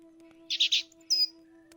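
A bird in The Book of Unwritten Tales gives a short chirping call of three quick notes and then a single higher chirp, close and clear over a faint steady hum.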